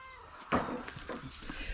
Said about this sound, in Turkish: Sen de yardım etmiyorsun anca miyav miyav.